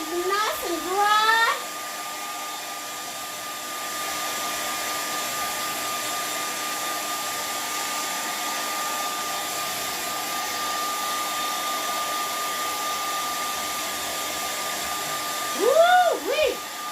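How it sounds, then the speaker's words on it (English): A handheld hair dryer dries acrylic paint on a lake sunset canvas, blowing a loud, even whir for most of the stretch, with short high vocal squeaks just before it starts and again near the end. "we're going to take our handy dandy hair dryer"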